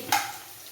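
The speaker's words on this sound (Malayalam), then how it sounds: "നമുക്കൊന്ന് നന്നായിട്ട് വഴന്ന് വരട്ടെ നമ്മൾ പിണ്ടി" Chopped banana stem sautés in a pan for a pickle, with one quick scrape of a spoon over a soft, steady sizzle, close and brief.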